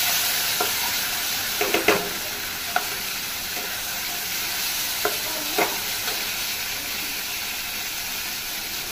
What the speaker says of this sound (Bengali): মশলাটা তত সময় কষাবো যত সময় না মশলা থেকে তেল ছেড়ে আসছে এবং মশলাটা খুব ভালো করে ভাজা হয়ে যাচ্ছে